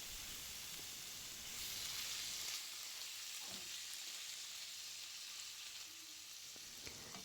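Lamb tail fat and chunks of lamb fry in a pan, giving a steady, close broadband sizzle with a soft crackle that continues alone throughout without any talk.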